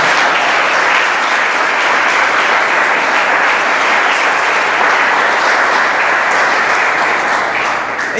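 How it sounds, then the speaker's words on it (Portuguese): A church congregation applauding loudly and steadily, a dense wash of many hands clapping together without pause, close and sustained throughout. "vamos aplaudir forte o Senhor"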